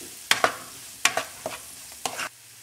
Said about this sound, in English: Give your onions a quick stir and let them get golden brown.